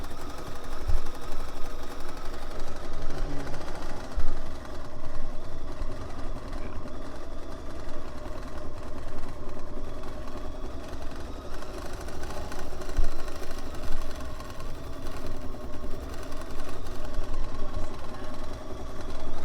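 At a Celtic quilting demonstration, a sewing machine hums continuously while stitching quilt sashing, a steady close motor drone that runs without pause and with no voices.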